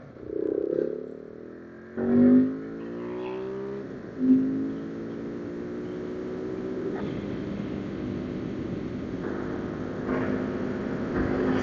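A KTM 690 motorcycle fitted with Tusk pannier boxes pulls away on a gravel road, its engine note rising steadily through a couple of gear changes, with wind rush and some clatter around it.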